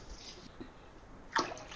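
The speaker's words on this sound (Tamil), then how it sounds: "3/4 கப்பு அளவில் தண்ணி நான் கடாயில் சேர்த்துக்கிறேன்." Water splashes briefly into a kadai pan in one quick pour near the end, standing out against a quiet kitchen background.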